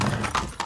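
A horse painted as a zebra in Far Cry 6 clops and shifts nearby, with a few quick hoof knocks and light snorting, all short and close.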